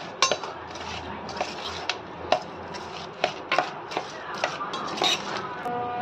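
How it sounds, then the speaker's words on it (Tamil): Ingredients, including torn cardamom pods, are mixed together in a bowl, with repeated sharp clinks and knocks of a utensil against the bowl at an uneven pace, close and fairly loud, with no talk. "எல்லாத்தையும் சேர்த்து நல்லா கிண்டி விட்டணும்."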